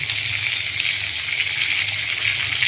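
Chicken karahi sizzles loudly and steadily in a hot wok as half a kilo of cut tomatoes goes in once the liquid has dried off. The frying hiss is continuous and close, with no talking.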